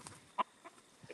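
A few soft, short clucks from a Silkie rooster, sparse and irregular, fairly quiet against a calm background.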